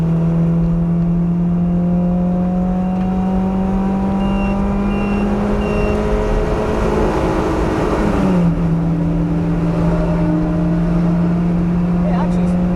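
A 2ZZ-engined car pulls hard at full throttle on the Donington circuit, a loud, sustained engine drone climbing in pitch, dipping briefly at a gear change, then climbing again under the steady rush of cabin noise.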